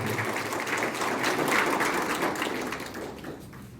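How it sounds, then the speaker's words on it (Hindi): A church gathering at a Holy Mass for marriage preparation classes at the Social Development Centre in Ranchi breaks into sustained, full applause thanking the bishop, holding steady before tapering off near the end. "हम जोरदार तालियों के साथ हमारे बिशप स्वामी का धन्यवाद करें"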